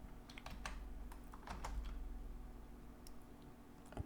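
Quiet, close clatter of a computer keyboard as a terminal command is typed, light irregular keystrokes over a low background hum, with no voice.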